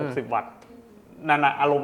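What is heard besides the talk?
No everyday noise stands out behind the speech.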